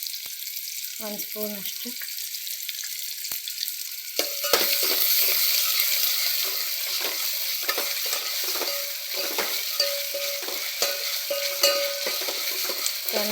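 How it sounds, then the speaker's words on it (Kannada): Ginger garlic paste frying in a pan for a bottle gourd kurma: a continuous hiss of sizzling with occasional spatula scrapes and crackles, while a voice speaks briefly near the start. "ಇವಾಗ ಜಿಂಜರ್ ಗಾರ್ಲಿಕ್ ಪೇಸ್ಟ್ ಹಾಕ್ತಾಯಿದ್ದೀನಿ"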